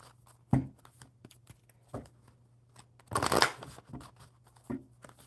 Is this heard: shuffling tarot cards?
yes